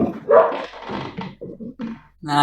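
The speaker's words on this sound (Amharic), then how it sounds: "ኧረ ይሄ ውሻ በጠበጠኝ ዛሬ።" A dog barks in a few short, loud bursts close by, with a whimpering or yipping quality, while people talk around it.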